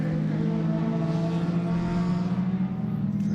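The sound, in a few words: rallycross car, Peugeot 206 with K24 engine, blasting past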